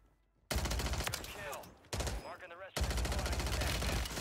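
Striker 9 submachine gun fired in bursts in Warzone 3 on Rebirth Island, loud rapid crackling volleys in three close bursts with brief gaps between them.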